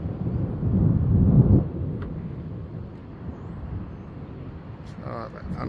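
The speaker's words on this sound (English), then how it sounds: "Oh, that thunder's so amazing." Thunder rumbling low over a garden during a storm, a deep roll peaking early then fading into a long dull tail, with a faint bird-like chirp near the end.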